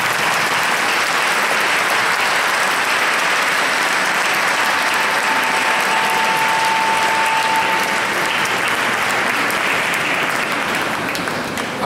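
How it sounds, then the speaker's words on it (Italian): Sustained applause from a concert audience welcoming a vocal group on stage, dense steady clapping throughout with no breaks. "a cui prego di fare un grande applauso"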